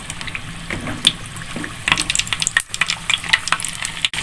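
Chicken-filled cireng drop into hot oil and fry, giving a wet, crackling sizzle with scattered pops and splutters that grows busier toward the end, close and fairly loud.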